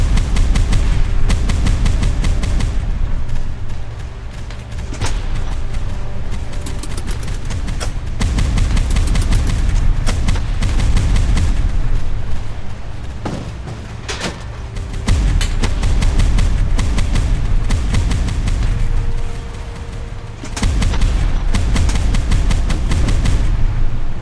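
A boat's 20 mm cannon in the naval combat game Boat Crew, firing long rapid bursts: dense, loud rattling gunfire over a constant engine drone, pausing briefly now and then, with no talk.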